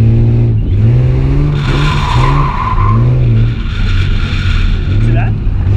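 A car drifting at a practice session screeches its tires in long wavering squeals over a loud, revving engine, close by and sustained, while people talk over it.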